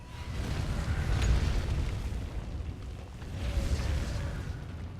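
Cannon attacking a wall in the video game Heroes of the Storm during a tournament match: two heavy rumbling booms, the first stronger, rolling under steady background noise.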